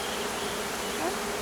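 Honeybees buzz steadily at a hive during a spring apiary inspection, a dense, continuous swarm drone filling the air at close range with no talk over it.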